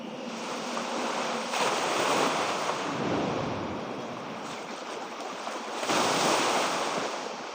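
Ocean surf from the game Dragon Raja rolls in a steady broadband wash, with waves swelling and breaking around two and six seconds, heard alone with a little wind.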